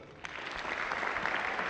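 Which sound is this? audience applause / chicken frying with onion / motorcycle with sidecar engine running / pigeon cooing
audience applause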